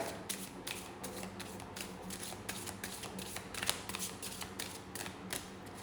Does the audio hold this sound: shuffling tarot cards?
yes